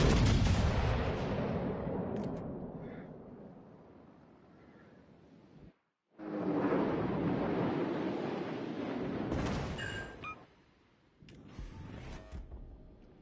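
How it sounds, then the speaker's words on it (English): Heavy naval cannon fire from warships in World of Warships: Legends, with loud booming blasts rolling into long rumbling decay, a brief silence, then further volleys and impacts; no talk. "And I'm still being shot at by a cannon."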